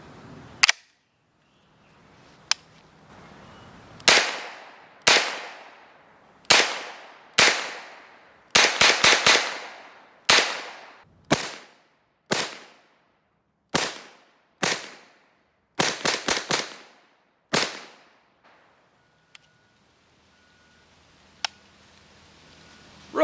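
First shots from an HK UMP submachine gun fitted with an EOTech sight ring out outdoors as loud, sharp single reports and quick double and triple bursts, each trailing off in a long echo, with pauses between strings.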